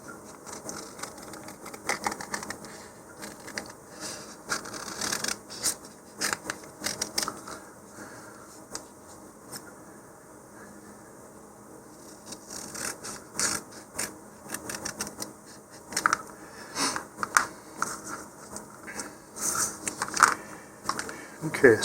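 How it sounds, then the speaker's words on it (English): Scissors snip out model rocket decals from a sheet in a long run of close, soft, irregular cuts and paper rustles that grow busier toward the end. "I am going to now cut this out close to where the decals actually are."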